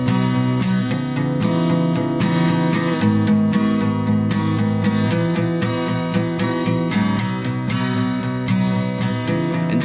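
Electric guitar plays the second-verse rhythm of a song, full sustained chords punctuated by regular strummed accents, loud and continuous with no voices.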